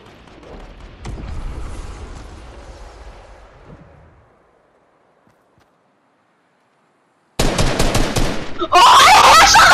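Fortnite gunfire erupts in dense, rapid bursts late on, loud and close, following a fading rumble and a stretch of near silence.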